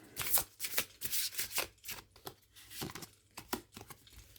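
Oracle cards are riffled and shuffled by hand in quick, uneven bursts of papery flicks and slaps, close and fairly quiet, with no talking.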